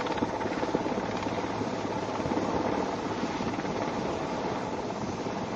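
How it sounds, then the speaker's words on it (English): A search helicopter circling over a naval display in Visakhapatnam makes a steady rotor drone that fills the air continuously, loud and close, with a constant low thrum and wind-like rush throughout. "there is a seeking helicopter circling the perimeter to provide air cover"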